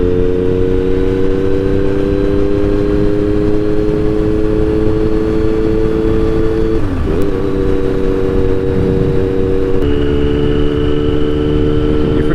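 A 2009 Triumph Speed Triple 1050 motorcycle engine runs steadily at speed on a two-lane blacktop road, a loud continuous drone with a brief pitch dip midway and a slight shift in tone near the end, with no talking.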